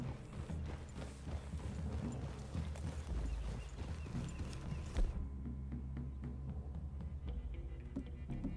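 Steady clip-clop of horse hooves in Red Dead Redemption 2 plods along with creaking tack and faint mechanical rattles, moderately near, with no voices over it.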